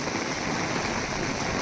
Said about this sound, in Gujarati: શક્તિપીઠ અંબાજીમાં આજે બપોર બાદ જે ભારે વરસાદની શરૂઆત થઈ છે.